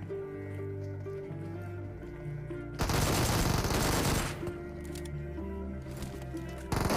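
Gunfire from pre-firing in a shooting video game, one dense burst of rapid shots lasting about a second, loud against background music.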